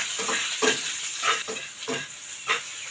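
Squid sautés in a hot pan with a steady hiss, while a utensil stirs it in periodic scraping bursts about every half second, close and fairly quiet.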